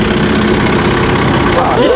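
A car engine runs during a driving lesson, a loud steady rumble with a rising rev toward the end, close and continuous while voices talk over it.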